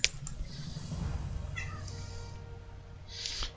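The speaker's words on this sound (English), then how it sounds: "There's one cat in here." A single cat meows loudly and close up, a drawn-out call in the middle with another short meow near the end, over quiet background hum.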